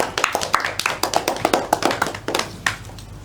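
A classroom of students claps for the final presentation group, a brisk burst of uneven hand claps for about three seconds, close and lively with no voices.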